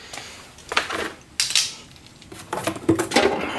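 New metal oil pan for a 2005 Honda Civic being handled, giving several bright clanks and scrapes in irregular bursts, close up and with no talking.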